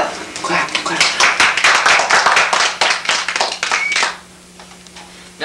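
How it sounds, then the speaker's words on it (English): Audience clapping at a dating game show, a burst of many hands for about four seconds that then tapers off, with a voice speaking in the background. "Clap, clap"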